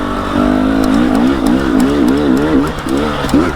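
A KTM dirt bike engine revs steadily and loudly up close, its pitch rising and falling in repeated wavering surges with no pauses, and no one talks over it.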